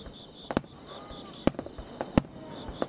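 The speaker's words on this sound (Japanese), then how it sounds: "家族だけでこの花火を堪能します。" Fireworks at a local rural fireworks festival, heard from a distance: a handful of sharp booms and crackles at irregular intervals over a faint steady background of night insects.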